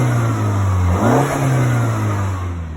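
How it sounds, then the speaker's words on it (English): A 2018 Mini Cooper S engine revs up and eases off up close, with turbo flutter on the throttle lift over a steady engine drone. "there is a turbo flutter"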